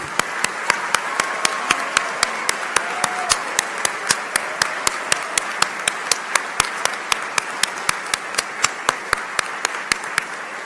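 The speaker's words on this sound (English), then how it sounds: "Let's have a round of applause for the class of 2029." Applause for the incoming medical class of 2029 at a college of medicine white coat ceremony, a sustained crowd clapping with a steady dense patter and sharp individual claps standing out, filling the hall for about ten seconds.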